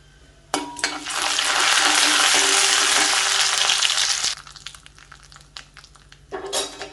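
Loud, steady sizzle of mustard seeds and lentils hitting hot oil for tempering, bursting in for about four seconds, then settling into softer crackles and pops.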